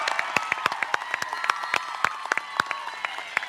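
Steady applause from a crowd at the Swain County High School 2024 commencement, dense crisp clapping with sharp individual claps standing out throughout.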